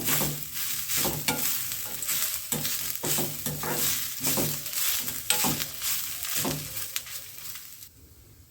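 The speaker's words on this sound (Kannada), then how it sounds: "ನೋಡಿ ಇದು ಇವಾಗ ಚೆನ್ನಾಗಿ ಫ್ರೈ ಆಗಿದೆ" Grated coconut frying in a pan for Dharmasthala temple-style chutney makes a close sizzle with a rhythmic series of spoon scrapes and stirs, which fade out near the end.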